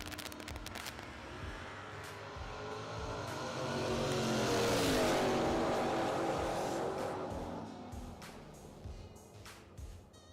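Vintage drag race cars, a Pontiac and a Camaro, roar down the strip at a drag racing event, their engine noise swelling to a loud peak and then fading into the distance.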